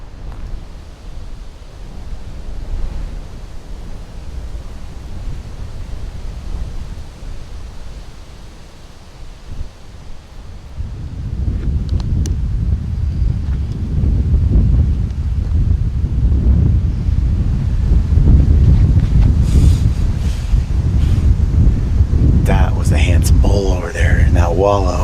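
Strong wind gusts buffet an outdoor microphone during a mountain elk bowhunt, a steady roaring rumble that grows louder and heavier in the second half, with faint brief sounds near the end.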